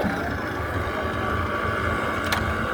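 A fishing boat loaded with tuna comes into a Kerala fishing harbour at Thottapally, its engine making a steady low drone mixed with wind noise, continuous and fairly close.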